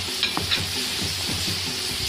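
Green chilies dropped into a pan of country chicken and jackfruit curry, a steady loud sizzle of frying with stirring scrapes and a few sharp pops and clinks of the spoon against the pan.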